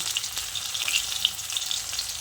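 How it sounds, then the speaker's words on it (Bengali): Stuffed pointed gourd chops fry in oil in a pan over low to medium flame, giving a steady sizzle with small crackling pops. "লো টু মিডিয়াম ফ্লেমে উল্টে পাল্টে ভেজে নেব।"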